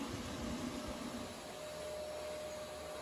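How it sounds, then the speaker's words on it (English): A vacuum cleaner with a HEPA filter runs on a garage floor, a faint, steady whooshing drone that holds evenly throughout with no voices. "And then vacuuming it up."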